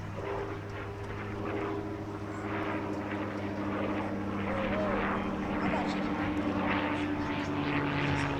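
A P-51D Mustang warbird flies past at the Bethpage Air Show at Jones Beach, its propeller engine a steady, sustained drone with a low harmonic hum, while crowd voices and talk carry over it throughout.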